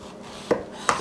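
Two sharp knife strokes slicing through a zucchini into long, thin strips on a cutting board, each cut a crisp, close thunk with a short pause between them.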